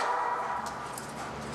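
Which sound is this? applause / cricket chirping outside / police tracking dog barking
police tracking dog barking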